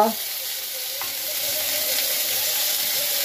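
Onion, garlic, tomato, ginger and chilli fry together in a pan for a prawn and banana-flower dish, giving a steady, close sizzle after a brief clatter of stirring at the start.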